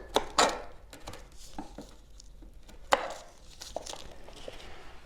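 A chisel cuts into wood while a teardrop trailer frame is built, giving a few sharp, close knocks and scraping cuts with pauses between them.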